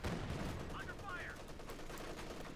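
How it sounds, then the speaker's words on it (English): An MG34 machine gun in the video game Company of Heroes 2 fires rapid, dense bursts that run the whole time, mixed with other battlefield gunfire and effects. "MG34 there joining in the fun."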